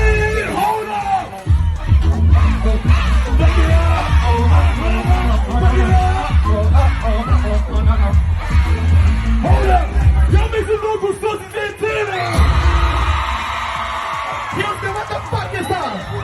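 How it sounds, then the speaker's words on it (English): A concert crowd screams and yells loudly through a performance in Houston, a dense continuous roar of voices and whoops with music underneath, surging near the end. "do you hear those people screaming in the front?"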